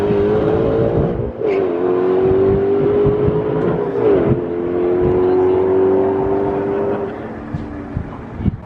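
A drag race car makes a pass at a drag strip, its engine a loud steady drone with a shift-like dip partway through, heard close and continuous before fading slightly toward the end.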